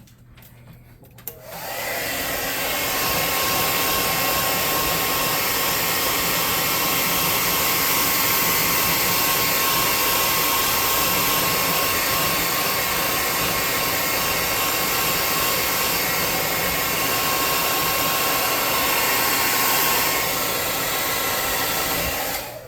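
A hair dryer switches on after a brief quiet moment and roars steadily up close for about twenty seconds as it dries the trunk of a model swamp tree for tabletop terrain, then cuts off.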